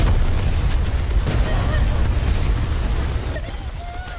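A grenade blast inside a tunnel in a film scene: a deep, rumbling roar that fills the space loudly and slowly fades away over several seconds.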